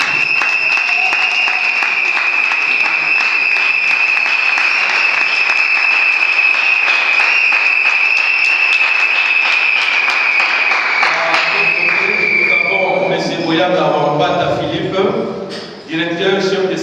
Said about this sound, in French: Il peut se mettre debout et nous allons l'applaudir.